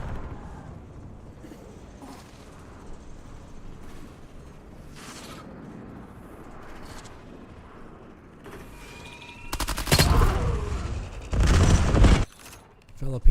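Video game gunfire breaks out late as loud, dense bursts of shooting in two heavy clusters, following a stretch of quieter in-game ambience.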